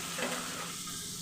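Boiled pasta and beef get stirred in a pan, a short, faint scrape and soft sizzle over a brief moment.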